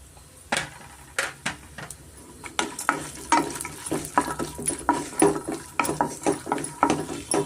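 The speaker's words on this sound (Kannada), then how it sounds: "ಗೋಡಂಬಿ ಸೇರಿಸ್ಕೊತಾ ಇದ್ದೀನಿ ಮೀಡಿಯಂ ಫ್ಲೇಮಲ್ಲೇ ಸ್ವಲ್ಪ ನಾವು ಫ್ರೈ ಮಾಡ್ಕೊಬೇಕಾಗುತ್ತೆ" Cashews fry in oil over a medium flame for instant upma, a soft sizzle under a string of irregular clinks and scrapes as the pieces are stirred around the pan.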